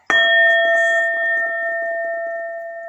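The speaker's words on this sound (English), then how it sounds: "Let me ring the bell on that." A bell struck once, a bright sharp clang followed by a sustained ringing tone that slowly decays, close and loud with no voices.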